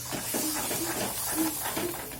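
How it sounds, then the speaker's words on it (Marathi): Water poured into frying masala for a sprouted matki curry sets off a close hiss, with several short bursts of bubbling and spitting in a loose rhythm. "थोडंसं पाणी घातलंय."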